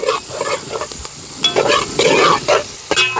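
Meat frying in a single pot for backyard biryani, loud continuous sizzling with repeated scraping stirs and clatter close up, no voices.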